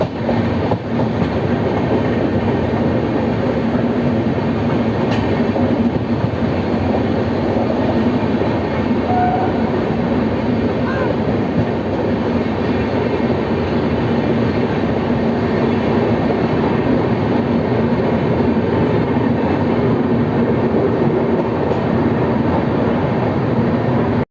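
The Kolkata–Silghat Town Kaziranga Express rolling into Malda Town station, heard from on board as a loud, steady rumble of wheels and carriage with faint rhythmic clatter, no voices.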